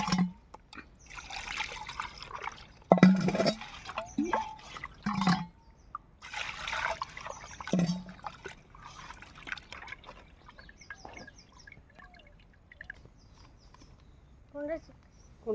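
Raw chicken is washed by hand in a pot, with water splashing, dribbling and pouring in uneven bursts, close by. Voices talk intermittently in between.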